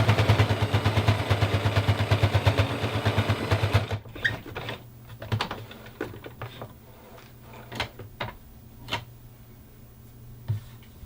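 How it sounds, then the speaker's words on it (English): A sewing machine stitches a teddy bear's arm onto its head, a dense rapid motor rattle for about four seconds, then stops and leaves scattered clicks and small knocks of the fabric being handled. "then I sew that arm to the head"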